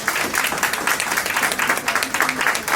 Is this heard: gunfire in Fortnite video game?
no